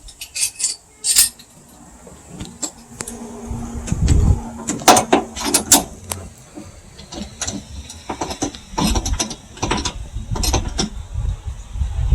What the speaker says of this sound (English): we're going to put these clamps on.